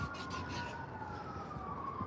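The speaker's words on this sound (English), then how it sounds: "Hear the sirens in the distance." Emergency vehicle sirens wail faintly in the distance, a thin sustained tone drifting over quiet background noise.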